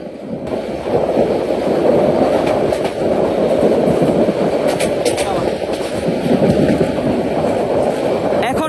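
A Titas Commuter train passes through Ghorashal railway station, heard from on board as a loud, steady rumble with rail clatter and wind noise that continues throughout.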